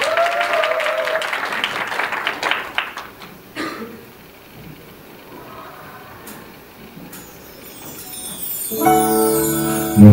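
Applause for a university vocal duo at a hip-hop, dance and vocal showcase concert, with clapping from a concert crowd that fades into quiet hall noise. A few coughs follow, and music or voices rise near the end.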